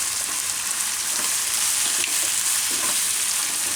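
Poha and vegetables with tomatoes frying in a pan, a steady, close sizzle that runs unbroken from start to finish with faint crackles and soft stirring scrapes.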